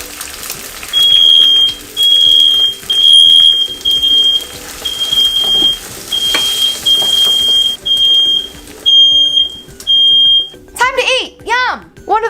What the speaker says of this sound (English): It wouldn't be a morning in my household without the sound of my smoke alarm.